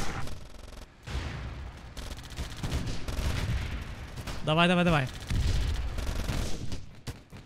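In the WWII strategy game Theatre of War, a BT tank is shot at, with repeated booming gunfire and rumbling explosions throughout, a wavering tonal whine partway through, and someone talking over the battle.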